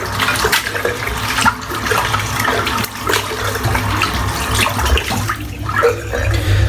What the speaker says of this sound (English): I'm going to just rinse this soap out